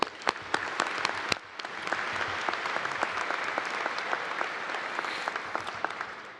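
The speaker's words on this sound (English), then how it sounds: "please, let's give them a round of applause." Applause from a graduation ceremony audience at ETAMU, Fall 2025. Sharp individual claps come first, then a dense, sustained ovation fills the hall for several seconds.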